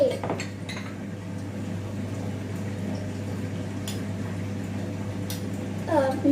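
Puffed rice is stirred in a bowl with chili powder, chaat masala and lemon juice, making a steady, soft rustle dotted with spoon clinks against the dish. A voice comes in briefly near the end.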